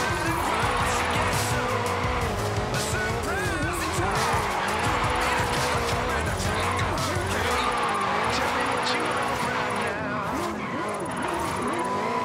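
Tires squeal continuously as a 2015 Mustang GT drifts downhill through corners in Forza Horizon 5, with a loud, steady engine roar and wavering screech throughout while someone talks over it.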